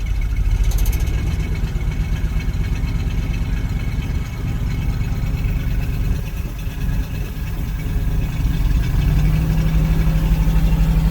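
A carbureted engine idles with a steady, loud, rough rumble, running unevenly with slight dips and swells in level throughout.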